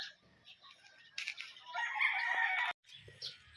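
Roosters, fighting cocks delivered to Concepcion, Tarlac, crow loudly and close by in one long crow with some clucking around it, then a brief break before another bird starts.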